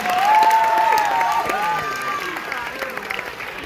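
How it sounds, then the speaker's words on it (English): Audience at a stage hypnosis show applauding, mixed clapping with whistles and cheers on top, loudest at the start and tapering gradually. "Let's give Cookie Monster a big round of applause"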